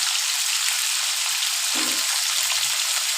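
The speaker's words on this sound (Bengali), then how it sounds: "এবার আপনি উল্টে পাল্টে এগুলোকে খুব শক্ত করে ভেজে নিন" Steady, bright sizzling of parshe fish frying in hot oil, continuous and close, with a soft stir or shift midway.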